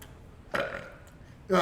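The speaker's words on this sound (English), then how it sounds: "As you finish your ale and give out a nice roaring belch that makes your chest vibrate" A loud, roaring belch after drinking ale at a role-playing game table, a single deep burst that swells and then trails off, followed by another loud voiced sound at the end.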